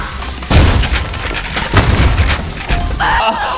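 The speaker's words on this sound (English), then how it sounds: "Oh, and I strafe right into a grenade." In the video game Ion Fury, a grenade explodes amid continuous loud gunfire and booming blasts, heavy rumbling bursts repeating through a dense, chaotic firefight mix.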